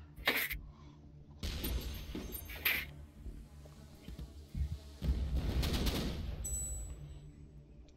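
Tank cannon shots and explosions in the artillery game Shellshock Live, several sharp loud blasts with lingering rumble, a bright electronic tone near the end, no talk.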